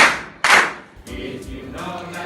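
Hands clap along to a children's Christian song, with two sharp distinct claps followed by a fainter, more diffuse round of clapping.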